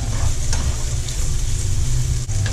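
Butter sizzling in bacon fat in a hot pan gives a steady, loud, close frying hiss with a low rumble underneath, continuous throughout with no talking.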